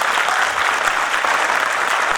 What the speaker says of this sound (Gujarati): જ્યારે જરૂર લાગે તાળી પાડવા જોઈએ તો કોઈ પણ પ્રકારની કસર કર્યા વગર તાળી પાડી લેવી